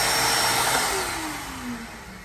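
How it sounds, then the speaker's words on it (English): An EOCMAX shop vac runs with a steady, loud whooshing motor roar and a tone that slides downward as the sound gradually eases off, with no one speaking. "the thing definitely has good vacuum suction"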